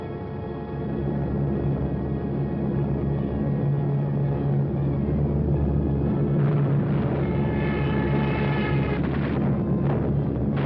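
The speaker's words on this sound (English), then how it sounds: "So the Germans brought up their bombers." German bomber aircraft fly overhead with a steady, droning engine roar that holds for about ten seconds. The sound is muffled and narrow, like an old wartime film recording, and its tone wavers slightly near the end.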